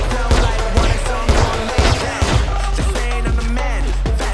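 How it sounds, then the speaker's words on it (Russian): Desert Eagle pistols fire in a police-versus-criminals duel in the role-play game GTA San Andreas Multiplayer. Loud, close shots crack in quick bursts, several overlapping, and then become sparser toward the end. "Стрельба до брони. Только не убивайте, до брони. Дуэль на диглах."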